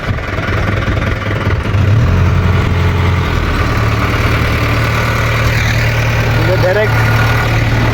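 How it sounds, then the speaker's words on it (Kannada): A tow truck's engine idles steadily at the roadside, a continuous low rumble holding through the whole stretch with background street noise and no pauses. "ಕೊನೆಗೂ ಗಾಡಿ ಬಂತು ನೋಡಿ"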